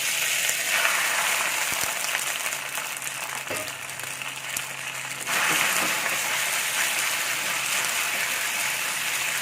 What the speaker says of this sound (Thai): ตอนนี้เราจะมาผัดเส้นกันก่อนนะ